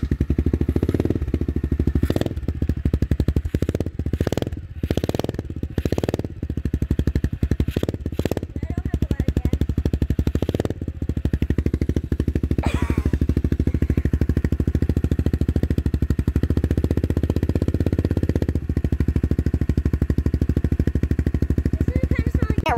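A Kawasaki KX85 dirt bike, fitted with an FMF Powercore 2 exhaust, runs cold just after starting, giving a loud close-up idle broken by a burst of sharp revs early on before settling into a steady, rough drone.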